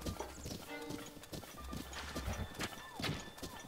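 Horse hooves clip-clopping in Zelda: Breath of the Wild as a goblin rides on horseback, the rhythmic hoofbeats steady and close amid other game sounds.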